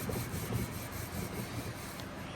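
A Scotch-Brite pad rubs over a wooden surface to strip off old finish, making a soft, steady back-and-forth scrubbing that is faint and close, with no voices.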